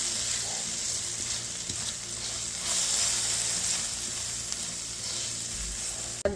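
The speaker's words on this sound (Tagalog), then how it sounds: "So, gigisa natin siya." Garlic and aromatics sauté in hot oil for arroz caldo, a steady close sizzle and crackle with light stirring, continuous throughout and ending with a brief clack.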